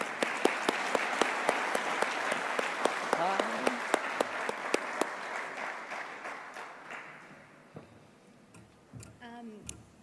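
Awards ceremony audience applause with loud individual claps standing out, slowly thinning and fading, followed by a brief spoken voice near the end.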